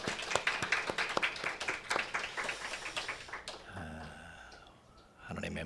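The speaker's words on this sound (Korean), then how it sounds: "박수로 영광을 드리겠습니다." A church congregation clapping together during a discipleship training seminar, rhythmic and fairly close claps that taper into quieter murmuring before picking up again.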